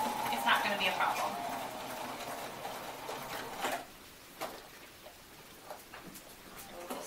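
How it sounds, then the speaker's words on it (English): A sewing machine stitches a small repair on baby clothing, running steadily for several seconds nearby, then stopping and leaving faint ticks and handling noises, with a voice talking over it. "A little space stitching at the end."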